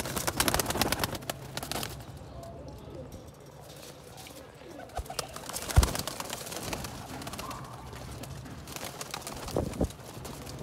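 Sialkoti pigeons, a breed kept on a rooftop loft, coo softly through a steady background murmur, their low calls blending with nearby ambient noise and a few sharper knocks.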